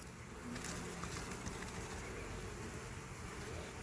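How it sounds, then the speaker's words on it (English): Honey bees buzz in a dense, continuous swarm close to the microphone at an open hive as they are knocked off a frame, with a steady hum and no talking. "hit it a couple times, knock the bees off."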